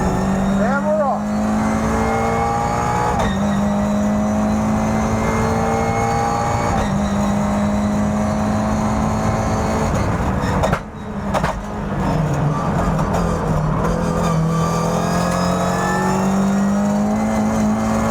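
A Toyota GR86 Cup race car pulls away and accelerates hard on a track, the engine climbing through several gears with brief shift pauses and a sharp dip near the end, heard loud from the cockpit while someone talks.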